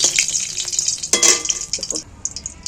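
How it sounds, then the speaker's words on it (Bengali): Cracked cardamom pods, cinnamon pieces and cloves fry in hot oil in a pan, giving a close, steady sizzle with a few scraping stirs and clinks of a utensil. "চারটে এলাচকে ফাটিয়ে একটু দিয়েছি দুটো ডালচিনির টুকরো দুটো লবঙ্গ এখানে একটু তেলের মধ্যে ভেজে নিচ্ছি"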